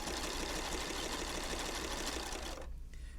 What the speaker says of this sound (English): I'm not changing it, I'm just sewing.